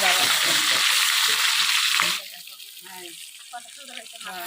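Hilsa fish heads frying in oil in a village kitchen, a loud dense sizzle for two seconds that then drops to a quieter crackle with a few light clinks.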